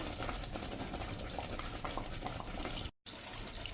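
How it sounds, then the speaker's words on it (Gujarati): Drumstick (moringa pod) curry gravy simmering in a pan, a faint, continuous bubbling and gentle sputtering with a brief dropout near the end and no voices. "તો હવે આને આપણે આ રીતે હજી 1 મિનિટ આ રીતે ખદવા દેશું"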